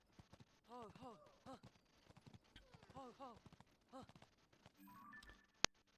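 Hooves of a deer mount in a Zelda game clip-clop in light rhythmic bursts, with a voice talking over them.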